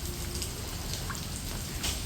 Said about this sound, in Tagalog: Talagang umuulan po mga chula.